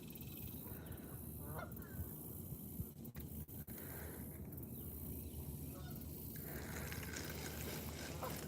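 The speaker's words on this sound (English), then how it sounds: "There's a bunch of geese coming." A flock of geese honks continuously, a dense chorus of calls approaching over water on a fishing outing, with low wind and rustling underneath.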